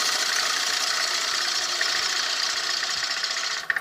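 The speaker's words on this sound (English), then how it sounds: "What I'm going to do is I'm going to take down this outer cylinder, this tenon here, little by little" Wood lathe turning down a tenon on a piece held in a jam chuck, a steady high cutting hiss over the spinning motor that runs without pause throughout, with no talking.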